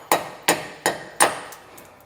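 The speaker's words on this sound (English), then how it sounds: "a couple taps with the hammer and they should pop off" Four sharp metallic hammer taps at a slow, even pace knock out wheel studs on a 2017 K-Z Sidewinder trailer, each ringing briefly, followed by a couple of faint softer knocks.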